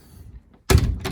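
A door aboard the boat Wanderer swings shut with a single solid thunk and latch after a quiet pause, close and loud, followed by a brief rattle.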